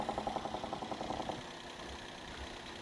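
A Maruti Zen Estilo car engine idles steadily with a low, even rumble and a faint rhythmic pulsing at the start, with no voices.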